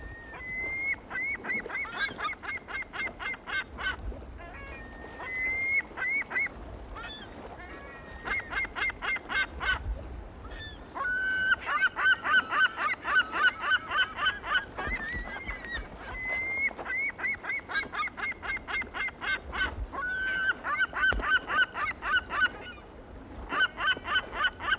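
A flock of California gulls squabbling over dead fish, with long runs of rapid, harsh cackling calls from several birds overlapping, loud and close throughout.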